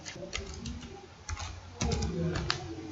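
Computer keyboard typing while names are entered into an Excel attendance sheet, a quick run of key taps at close range with short pauses and a faint voice in the background.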